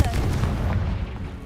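A Confringo fire spell explodes in Hogwarts Legacy, one short heavy blast with a low rumbling body that tails off within a second or so.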